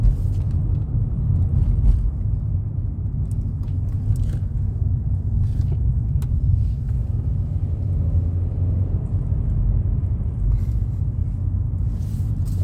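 A car being driven gives a steady low rumble of engine and road noise inside the cabin, with faint ticks and rattles on top, continuous and fairly loud with no talking.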